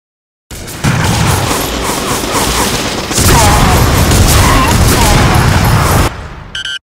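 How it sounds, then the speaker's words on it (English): A dense, loud barrage of powerful gunshots in the video game Gungrave Overdose, continuous roaring fire for several seconds with a brief surge midway, then cutting off into a short metallic tail. "You can then fire a barrage of very powerful shots at the enemy."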